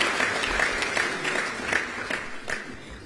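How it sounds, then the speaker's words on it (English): Applause from delegates at a SADC Council of Ministers meeting for the chairperson, moderately loud with distinct individual claps and slight fluctuations, dwindling a little toward the end. "shall we give another big round of applause to our chairperson for meticulously chairing this meeting"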